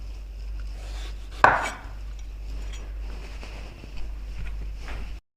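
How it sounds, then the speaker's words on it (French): A kitchen knife slices lengthwise through an aubergine, landing as one sharp thunk on the cutting board, then only faint, quiet handling follows. "Maintenant, on va couper aubergine."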